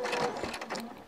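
A sewing machine back stitching on a fabric baby busy book, one short quick run of the needle that is fairly faint.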